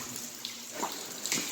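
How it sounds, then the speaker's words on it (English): Water pouring and dripping inside an icy train tunnel abandoned since the 1950s, a close, continuous splashing stream with a few sharper drips breaking through. "It is dripping a lot here."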